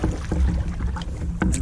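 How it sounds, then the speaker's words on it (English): A canoe is paddled on Lake Opeongo in Algonquin, with quick splashy paddle strokes and water sloshing close by under a steady wind rush. "It's definitely making for some awkward paddling, but it's not very far."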